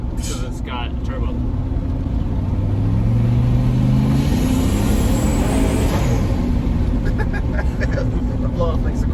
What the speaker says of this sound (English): The blow off makes a cool sound.